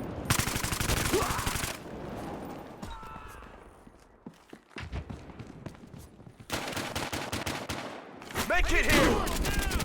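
Bursts of automatic and rapid gunfire from a Battlefield Hardline multiplayer match on Xbox Series S, loud and dense at the start, thinning into scattered shots, then swelling again near the end, with players shouting over it.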